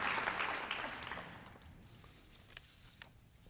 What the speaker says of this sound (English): Let's have another round of applause for the jazz band.